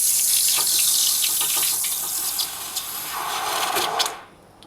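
Freshly hand-poured hot silver coin round is quenched in water, giving a loud steady hiss and sizzle with bubbling that fades and cuts off sharply near the end, with no talking.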